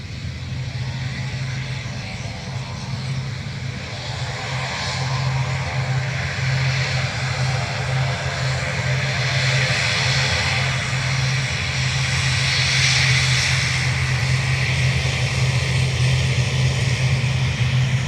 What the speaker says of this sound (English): wind 240 degrees, 10 knots, running 28 right, clear takeoff